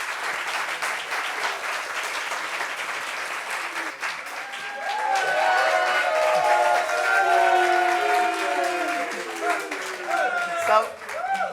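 A studio audience applauds a young guest on a French talk show about youth unemployment, steady clapping that swells midway, with talk and a sustained tonal chord over the crowd as it continues.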